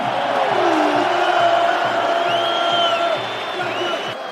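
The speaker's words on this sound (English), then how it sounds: "the Macedonian crowd have had their first real chance to get going" Football crowd at a North Macedonia vs England match, a loud, continuous roar of cheering with whistles and shouts rising above it and a steady rhythmic drumbeat pulsing underneath.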